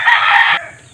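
Native chicken crowing in a backyard, one loud, close, drawn-out cock-a-doodle-doo that cuts off after about half a second and leaves faint ambience.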